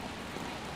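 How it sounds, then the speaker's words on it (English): Hard rain falling outdoors near a war memorial bridge in Paju, Korea, a dense, steady hiss of drops with no break and no voices. "it's kind of raining hard"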